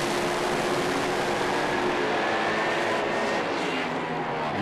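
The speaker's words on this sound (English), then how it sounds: "We'll hear them bring the revs up as they bump these cars into stage. Let's just listen to these engines." Top Doorslammer drag racing cars at a Slamfest round rev their engines hard, a loud, dense, continuous roar that holds steady throughout with no pauses.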